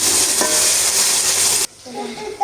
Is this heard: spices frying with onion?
yes